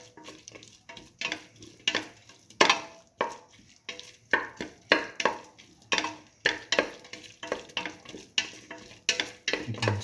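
Split mung bean and tomato stew mixture sautéing in a pan, with repeated, irregular scraping stir strokes over a soft, steady sizzle, close and fairly loud.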